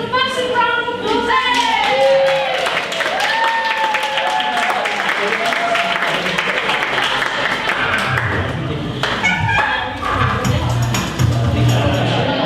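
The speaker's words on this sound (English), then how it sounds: "give yourselves a massive round of applause" An audience at a spoken-word scratch night breaks into loud, sustained applause and clapping that fills the room for the whole stretch, with scattered cheers and voices mixed in.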